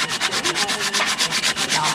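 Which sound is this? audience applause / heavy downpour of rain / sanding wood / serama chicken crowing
sanding wood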